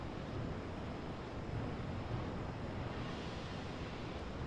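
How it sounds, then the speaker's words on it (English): Vicious ocean waves ringing an island in the Pokémon XG video game, a continuous faint broadband roar of surf with a gentle wash and no talking. "We're responsible for keeping the island ringed with vicious waves."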